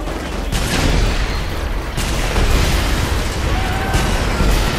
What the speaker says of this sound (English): I like big explosions